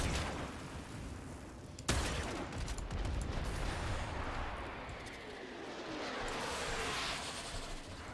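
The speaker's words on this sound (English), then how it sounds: "Shooting at me." Enemy gunfire in the sci-fi shooter Warframe: a sharp crack near the two-second mark, then a dense, steady wash of rumbling shots and blasts that keeps going, loud and continuous.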